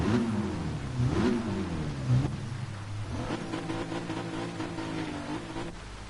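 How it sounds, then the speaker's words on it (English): A Mitsubishi Gr.4 race car in Gran Turismo 7 on a rainy High Speed Ring, engine droning and revving with a rising turbo whine, steady and close, no talk. "Hear that turbo whine."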